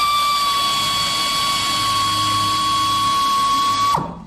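A machine sanding wood with FLEX TRIM sanding brushes gives a steady, loud high-pitched whine that holds evenly for about four seconds, then winds down abruptly at the end.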